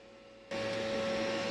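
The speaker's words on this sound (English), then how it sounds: "offer it up and weld it up again" Welding a bent side step back onto a vehicle: after a low hum, a loud, steady crackling hiss starts abruptly and continues without a break.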